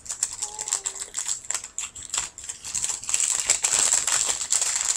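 Plastic bags are handled and torn open up close, giving crisp crinkling and rustling with sharp tearing bursts that grow denser and louder toward the end.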